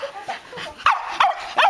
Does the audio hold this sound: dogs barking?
yes